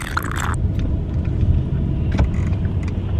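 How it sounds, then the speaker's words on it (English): A car rolls over a speed bump, a loud continuous low road rumble and engine drone with a brief jolt and thump partway through, heard close from inside the cabin. "Oh my god, I'm going for a speed bump."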